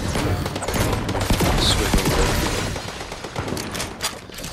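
Gunfire in a Fortnite trios battle royale match, rapid loud bursts and cracks packed together over a busy game soundscape, close and continuous.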